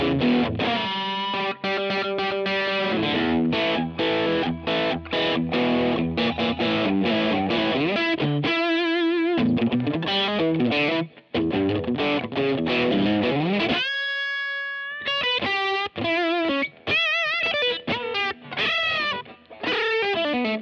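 A Fender Custom Shop Custom Deluxe Stratocaster, heavily distorted, plays loud chords and riffs, with sustained notes and a few sliding bends, no voices.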